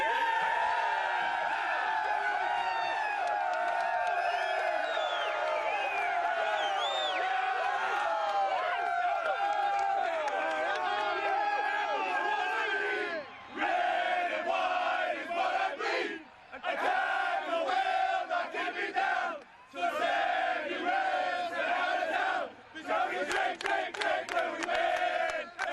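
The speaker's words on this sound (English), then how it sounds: "The crowd is loving it every minute" A packed ice hockey arena crowd of over 7,000 in Toronto roars and cheers through a Canada v USA game, a loud, dense, sustained wall of voices that dips briefly a few times before surging back.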